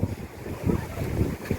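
Strong wind gusts buffet the microphone at the Bukana Bridge on a coastal road, a loud, rumbling, uneven roar that swells and dips throughout with no voices.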